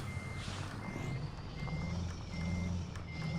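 A truck in Euro Truck Simulator 2 backs up with a steady, evenly spaced reversing beep over a low engine hum, quiet and regular throughout.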